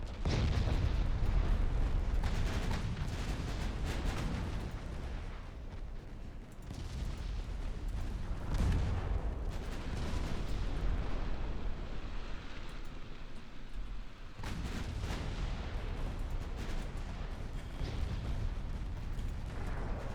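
Naval gunfire at a heavy cruiser in the Ultimate Admiral Dreadnoughts naval battle game, deep booming salvos and rumbling explosions over a steady roar, loud and sustained throughout with no voices.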